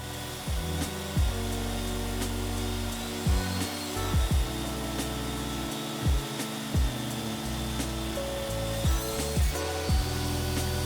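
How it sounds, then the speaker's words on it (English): A power saw resaws hardwood into strips, a loud continuous whining drone with repeated drops and rises in pitch as each cut bites and releases. "I need to resaw the wood into strips just over the thickness of the maple that I have"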